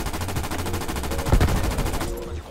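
Rapid automatic gunfire from a new weapon in a Call of Duty game, a loud, fast, evenly spaced burst of shots running for about two seconds before cutting off.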